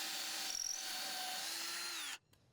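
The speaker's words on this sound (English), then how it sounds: "Next, I bore pilot holes near the ends" Power drill boring pilot holes near the ends of deck boards, one continuous loud whine that slowly drops in pitch under load before cutting off abruptly, followed by near silence.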